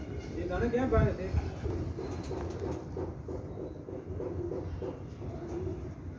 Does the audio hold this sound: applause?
no